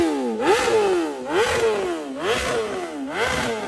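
A BMW RRS motorcycle engine revs hard in repeated sharp blips, four rising and falling surges about a second apart, loud and close with no voices.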